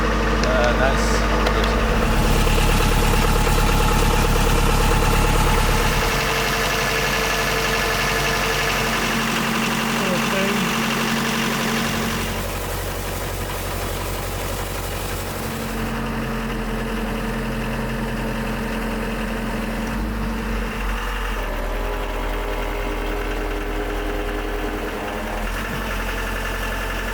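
A 50-year-old marine diesel engine idles loud and steady, a dense continuous rumble with rattling vibration that eases slightly in level partway through, steady to the end.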